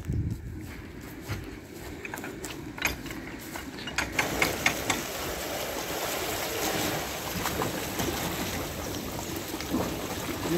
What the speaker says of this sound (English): You can hear the water filling the lock.